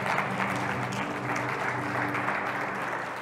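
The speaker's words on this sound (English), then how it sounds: "Can you give God a clap this morning?" A church congregation at a Sunday morning service claps in praise, a sustained, full wash of many hands that stays loud and even throughout before easing off slightly at the end.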